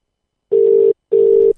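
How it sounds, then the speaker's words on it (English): Two long steady telephone ringing tones after dialing, loud and clean, separated by a short gap, with no talk over them. "if I press this button here, we should hear another ringing tone"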